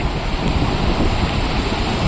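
Heavy rain pelts a phone beside the Ajay river, a steady dense broadband roar with wind buffeting the microphone throughout, close and loud, no voices.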